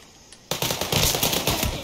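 Gunfire erupts in the open-world crime game Mafia 3, a sudden dense stream of rapid automatic shots after a quiet half second, loud and sustained to the end.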